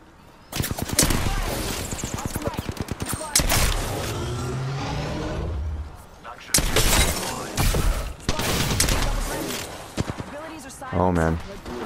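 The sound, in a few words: gunfire in the video game Apex Legends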